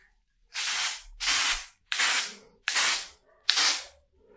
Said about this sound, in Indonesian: Aku semprot dulu ya.